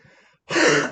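One forceful, breathy cough bursts out after a brief quiet pause, close and loud.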